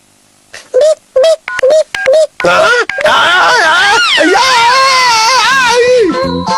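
Several short telephone dialing tones beep in quick succession, then give way to loud, wailing cartoonish cries that continue to the end, from a Hindi cartoon.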